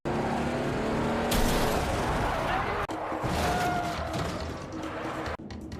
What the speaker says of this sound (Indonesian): Lalu acara kejar-kejaran mobil pun terjadi.